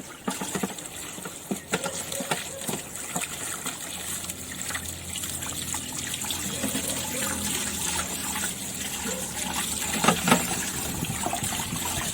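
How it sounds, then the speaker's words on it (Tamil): Water gushes and splashes continuously as raw chicken is washed with turmeric for a village-style barbecue outdoors, a loud, close, steady rush with brief louder splashes. "மஞ்சத்தூள் போட்டு சிக்கனை கழுவிக்க வேண்டியதான்"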